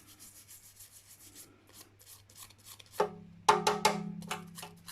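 A transfer is rubbed off onto a craft piece, with soft repeated scraping strokes close by that grow firmer and louder toward the end.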